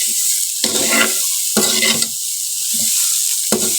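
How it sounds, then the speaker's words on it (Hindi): Dry peas roasting in a pan for nimko are stirred in four separate rattling sweeps, each a loud, close scrape and patter of the peas over the hot metal, with short quiet gaps between. "इनको हमने इतना भूनना है कि इनकी रंगत तब्दील हो जाए, इतना नहीं करना कि ये जल जाएं।"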